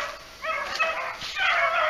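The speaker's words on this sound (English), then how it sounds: "Dog just opening up here." Hunting dog opening up and baying on an afternoon training run outdoors, a few close, loud, drawn-out bay and yip calls in quick succession with no talk.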